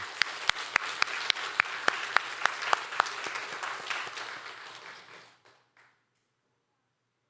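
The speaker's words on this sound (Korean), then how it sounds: "우리 교학교 교사님들에게 다시 한번 사랑과 격려의 박수를 한번 드리겠습니다" A church audience applauds its Sunday school teachers with dense, steady clapping, a few sharp regular claps standing out near by, before the applause tapers off and fades to silence.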